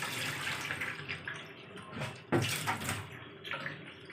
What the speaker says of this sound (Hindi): पौधों को पानी देना मेरे लिए सबसे ज़्यादा इम्पोर्टेंट है, जो कि मैं दे रही हूँ पौधों को पानी।